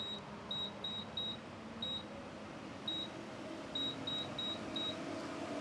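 Short electronic beeps from a Shell gas station pump keypad as a phone number is keyed in, a dozen or so clear tones in uneven bursts over steady outdoor traffic and engine rumble.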